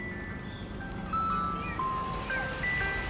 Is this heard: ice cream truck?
yes